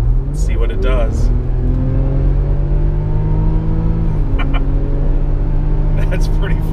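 A Range Rover accelerates hard along an open road, the engine note climbing steadily through the gears in a loud, close cabin rumble while people inside talk over it.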